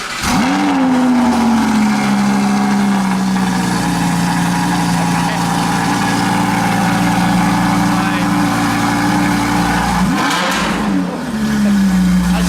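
A Lamborghini Huracan engine revs and holds a loud, throaty drone, dipping briefly as it's blipped again near the end at a car show; it sounds close and powerful.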